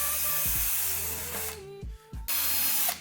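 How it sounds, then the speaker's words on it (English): A handheld drill spins a nut driver to remove the wheels of a Traxxas T-Maxx RC truck being restored, giving a close, whining buzz in short bursts that stop and restart. "I've been putting it into a drill because it works pretty good"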